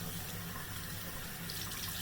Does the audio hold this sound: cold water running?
yes